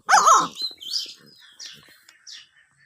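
Puppies yelping at a cat, a loud close burst of high barking followed by thinner squeaky whines and fading yips, heard alone.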